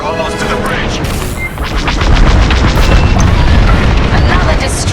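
A ship blowing up in the Star Wars Squadrons space game, a loud sustained rumbling blast and crash that swells and rolls on without a break.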